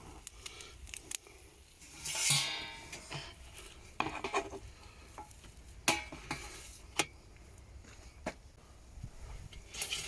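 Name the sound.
wild mushroom omelette cooking in a pan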